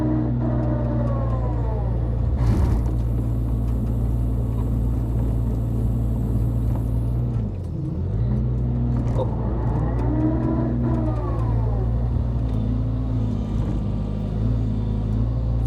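A rice-field excavator's engine rumbles steadily and loudly throughout while it scrapes and levels paddy topsoil, with a brief dip in the drone around the middle and occasional revving swells.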